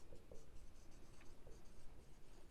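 A pen writes out the final answer to a Class 10 geometry problem, close, steady scratching strokes in short repeated bursts with no voices.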